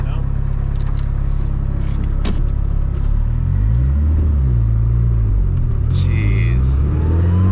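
An SR20-swapped Datsun 240Z drives along with its air conditioning on, a loud low engine drone rising and falling in pitch as the car accelerates and shifts, continuous from inside the cabin.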